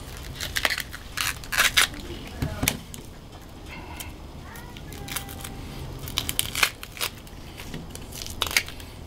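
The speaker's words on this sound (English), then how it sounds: "Cut that end off. I'm going to cut it in half. Take the skin off." Knife cutting through an onion on a board and the dry skin being peeled off, a series of sharp crunchy chops and crackly rustles, close up, with someone talking in between.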